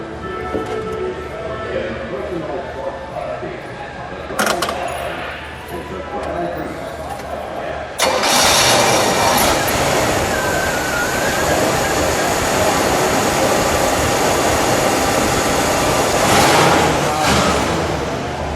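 A 1973 Pontiac Grand Am with a four-speed cranks and fires up, then settles into a loud, steady rumbling idle up close, with a brief rev; people talk over the engine.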